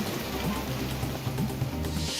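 Steady rain falls in Nanded district, a dense, continuous patter on surfaces, close and even throughout.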